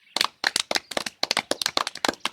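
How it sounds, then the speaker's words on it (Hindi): Children clapping in a home comedy skit, a quick series of sharp, close handclaps in uneven bursts, loud and dry, with no talking over them. "तालियां बजाओ"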